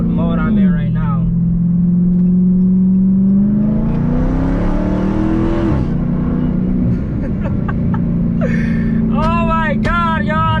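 A Dodge Charger Hellcat engine revs and accelerates with a loud, rising, throaty growl heard from inside the car, with gear changes, and people exclaim and talk over it.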